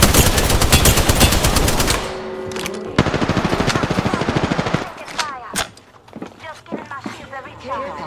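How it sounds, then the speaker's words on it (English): Rapid automatic gunfire in a video game shootout, loud dense bursts for several seconds followed by scattered single shots and clatter as a person talks over the action. "They're shooting at me."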